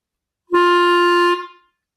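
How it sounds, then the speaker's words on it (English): A single sustained clarinet note, bright and steady, begins with a soft breath attack and is cut off cleanly by the tongue after about a second, alone and close. "So that was a breath attack, and I stopped the"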